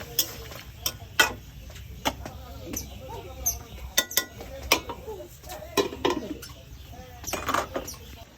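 A pot of bottle gourd curry with lentil nuggets being stirred and then covered, a series of close metallic clinks and scrapes of a spoon on the pot and a lid knock, with faint voices in the background.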